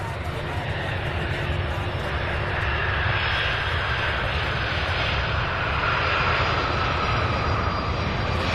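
A Boeing 767 jet landing at Louisville International Airport makes a continuous broad engine roar that holds steady and loud throughout.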